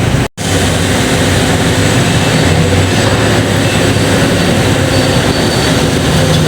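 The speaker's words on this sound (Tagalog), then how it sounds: "ayan po yung mga gilingan ng palay hanggang doon sa dulo" Large rice milling machines run together in a mill, a loud, dense, continuous mechanical roar and drone with no pauses, broken only by one very brief dropout near the start.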